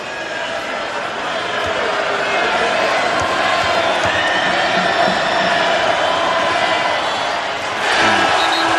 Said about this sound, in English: as you hear by the crowd reaction, he missed the first one